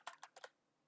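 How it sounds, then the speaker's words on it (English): A computer keyboard being typed on during Windows 11 settings entry, with four quick, crisp keystrokes in a short run, faint and close, followed by quiet. "now you want to type in"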